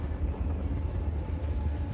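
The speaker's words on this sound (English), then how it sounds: "We're taking the train." A train in the video game Just Cause 4 rumbles along the tracks. The low rolling roar is steady and continuous, with no voices.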